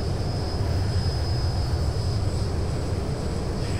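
Engines of a Boeing 737-900 airliner drone steadily in flight in the X-Plane 11 flight simulator, a continuous low rumble with a thin high whine riding on top, even and unbroken throughout.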